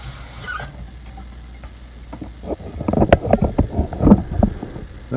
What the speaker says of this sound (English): give it a nice little good rinse